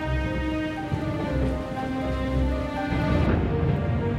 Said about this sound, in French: regardait la pluie tomber par sa fenêtre